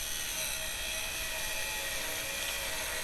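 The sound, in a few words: 720 watt electric angle grinder running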